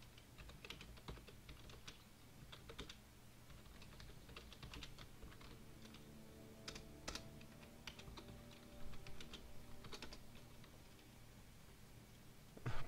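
Steady, rapid typing on a computer keyboard, close and fairly quiet, with continuous clicking keystrokes and a few brief pauses over faint game music, and no talking.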